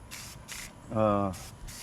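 An aerosol paint can sprays a custom front bumper for a shop truck in short hissing bursts, two at the start and two at the end, with a brief voice in between.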